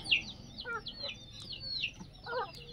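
Several desi (Indian native breed) chickens cluck and squawk close by in short, scattered bursts, with one higher call standing out near the start.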